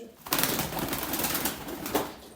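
Arabian pigeons give a soft, close coo lasting a couple of seconds over faint background noise.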